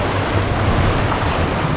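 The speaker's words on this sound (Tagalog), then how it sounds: "Pero malakas yung alon." Strong ocean surf rolling onto a shallow sandy beach, a loud continuous roar of breaking waves close by, with no voices.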